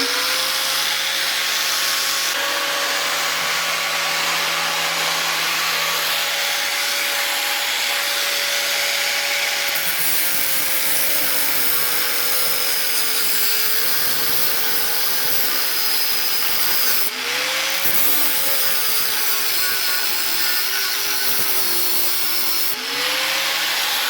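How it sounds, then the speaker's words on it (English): Angle grinder cuts steadily into a rusty trailer hitch ball, a loud continuous whine that dips and shifts pitch as the disc bites and loads up, close and alone. "I'm gonna have to use the good old angle grinder for this as well"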